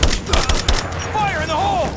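Gunfire rings out in the video game Rise of the Tomb Raider: a quick run of sharp, punchy shots in the first second, then a whistling, wavering tone over a rumbling game backdrop.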